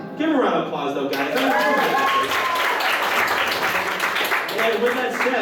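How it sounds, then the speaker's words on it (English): An audience at an anime convention quiz game show breaks into a round of applause, steady clapping mixed with crowd voices that carries on throughout. "Give him a round of applause, though, guys."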